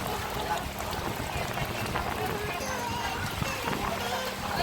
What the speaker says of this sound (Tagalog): Ang lakas kasi ng ulan, no?